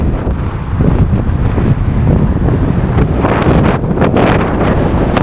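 Strong wind roars and buffets against the microphone steadily throughout while cycling on a cycleway in France, loud and unbroken.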